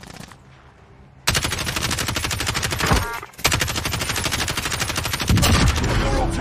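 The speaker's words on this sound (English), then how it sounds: "he's shooting at me at the hay bales" Rapid automatic gunfire from a Warzone Plunder match, loud sustained bursts of close shooting broken by a brief pause and then resuming, dense and continuous.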